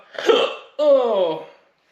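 Two sharp hiccups from a person after eating an extremely hot chocolate bar, the second a longer voiced catch with a strained, wavering tone, close and loud against silence.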